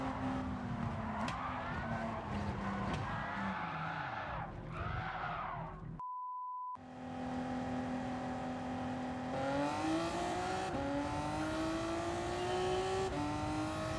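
A turbocharged Nissan Z Performance sports car races on a damp Suzuka circuit in Gran Turismo 7. The engine drones and rises in pitch through gear changes, broken by a brief electronic beep before the revving resumes.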